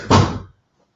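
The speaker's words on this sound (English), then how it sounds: "I'm going to close my office door because my dogs are being cray-cray." An office door swings shut with a single close, solid thump, followed by silence.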